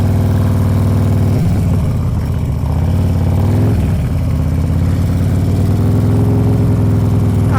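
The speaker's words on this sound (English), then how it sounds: "Friction zone 1, foot up when the bike starts to move" A motorcycle engine idles steadily, then its note shifts and bogs slightly as the clutch is eased through the friction zone and the bike pulls away slowly, staying loud and close throughout with no talk.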